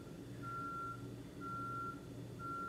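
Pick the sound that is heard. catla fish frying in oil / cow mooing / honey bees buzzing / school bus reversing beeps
school bus reversing beeps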